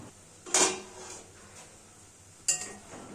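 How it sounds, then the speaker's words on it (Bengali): A cooking pot lid is lifted off a pan of kalmi greens, giving two sharp metallic clanks about two seconds apart, close and distinct over a quiet kitchen background. "এবার আমরা ঢাকনাটা তুলে নিচ্ছি।"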